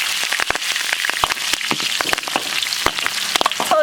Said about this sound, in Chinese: 锅里留点油，油后下入葱姜蒜干辣椒。